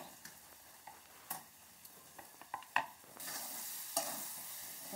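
Spice masala with garlic frying in oil for kaleja roast, a soft sizzle under scattered spatula scrapes and taps, then the hiss swells louder near the end.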